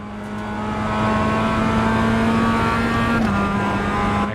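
A race car engine in a racing video game holds a steady, loud high-pitched drone that climbs slightly, then drops to a new pitch at a gear change near the end. No one speaks.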